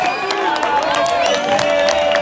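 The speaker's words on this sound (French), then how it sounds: "On peut l'applaudir." A crowd at a barbecue expo applauding and cheering loudly and continuously, a dense wash of clapping with whistle-like voices rising above it.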